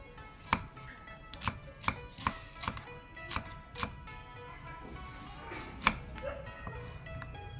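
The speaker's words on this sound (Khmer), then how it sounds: "បន្ទាប់មកយើងហាន់ខ្ទឹមក្រហមរបស់យើង" Repeated sharp knife chops on a cutting board, about a dozen strikes in an uneven rhythm, close and fairly quiet.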